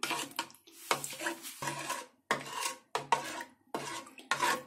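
A spoon mixes black salt, white salt and black pepper into golgappa water in a bowl, giving a close series of clinking, scraping strokes in uneven bursts with short pauses.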